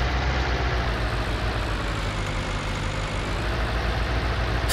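A Valtra G-Series tractor in Farming Simulator 19 runs with a steady, loud low engine drone, close and unbroken, with no voices over it.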